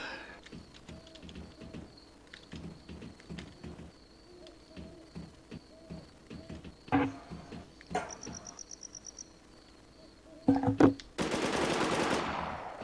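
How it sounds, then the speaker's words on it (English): Light machine gun fire in a video game, rapid rattling bursts at a distance among chirping insect and bird ambience, with louder nearer bursts and a hissing rush near the end. "That sounds like a LMG"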